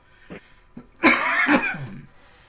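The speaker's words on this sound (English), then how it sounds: "I cannot get rid of this cough" A single person coughs hard during a fantasy tabletop role-playing game session, a short harsh burst of several rough coughs up close, preceded by a couple of small throat noises.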